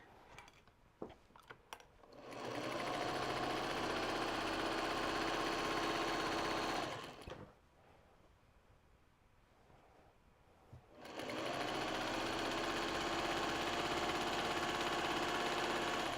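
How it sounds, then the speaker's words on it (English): A sewing machine stitching a quarter inch from raw fabric edges through all the layers of a quilt-as-you-go project bag, running in two steady, even bursts with a quiet pause between, close up and alone. "I'm going to stitch 1/4 inch away from those raw edges through all of the layers"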